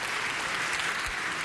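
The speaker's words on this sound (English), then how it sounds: "you all may now applaud" Conference audience applauding throughout, a dense, steady wash of clapping from a crowd, moderately loud and even, with no talk over it.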